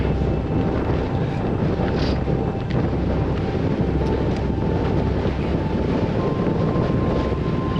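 Strong wind of around 30 miles an hour buffets the microphone on an Icelandic mountain hike up Valahnjúkur near Thorsmork, a loud continuous low rumbling roar with gusty fluctuations throughout.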